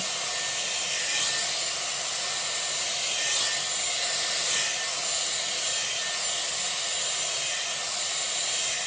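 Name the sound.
Dyson Airwrap hair styler blowing air while drying hair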